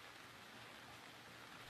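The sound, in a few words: rain in the video game Gemini Rue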